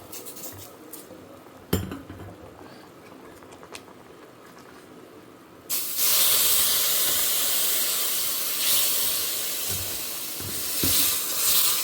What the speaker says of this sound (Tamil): ரசம் நல்லா கொதிச்சுடுத்து தாளித்து கொட்டிட வேண்டியதான்